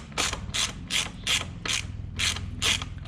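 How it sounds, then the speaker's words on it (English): A ratchet tightens bolts on the chain guide of a Yamaha Banshee 350cc, giving close, steady rounds of buzzing ratchet clicks in even strokes about every half second, with nothing else heard. "we're gonna send it in with a ratchet"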